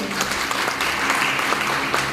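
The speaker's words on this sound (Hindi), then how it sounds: "इन सभी अचीवर्स के लिए जोरदार ताली होनी चाहिए।" An audience at an AWPL business meeting gives achievers strong applause, a steady wash of many hands clapping throughout, fairly loud and continuous.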